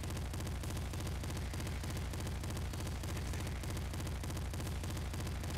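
Rapid weapon fire in Nuclear Throne Ultra Mod: a steady, dense stream of quick repeated shots in a fast, even rhythm, loud and unbroken, with no talk over it.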